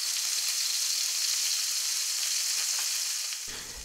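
Tomato slices sizzle in hot oil in a frying pan, a bright continuous crackle and hiss that runs steadily and eases near the end as a dull low clatter of the pan comes in.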